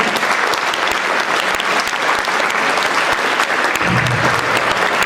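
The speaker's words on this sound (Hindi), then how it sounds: "एक बार तालियां बजाकर मन" An audience at a Hindi comic poetry recital (kavi sammelan) claps steadily, a dense, loud wash of many hands that continues evenly for several seconds.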